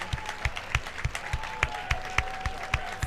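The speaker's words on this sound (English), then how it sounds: "People are standing up, ovation." A crowd at a women's pro singles gold-medal pickleball match gives a standing ovation, with steady sustained applause and sharp individual claps recurring throughout, moderately loud and not close.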